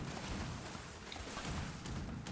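Continuous gunfire from a winding minigun-style brute cannon in a video game, heard as a dense, steady rumble of rapid shots and booms that blur together at fairly low volume with no pauses.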